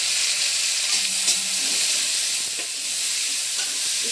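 Onion, garlic, ginger, curry leaves and green chillies sautéing in hot oil in a pan, a steady close sizzle with light stirring scrapes and no voices.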